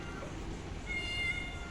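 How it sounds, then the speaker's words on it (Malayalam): A cat gives a single short meow partway through, faint and close, over low background noise during a rural meal of fish and rice. "പൂച്ച"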